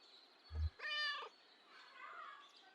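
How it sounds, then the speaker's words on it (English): White cat in the video game Kentucky Route Zero gives a short low purr, then a clear meow with a fainter second meow trailing after, close and quiet. "Here's that white cat again."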